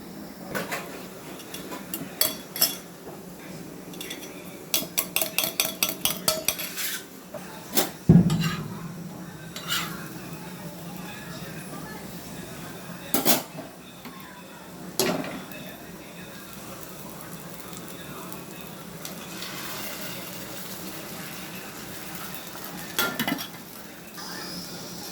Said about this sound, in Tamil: நல்லா வெங்காயம் இது மாதிரி வதக்கிக்கோங்க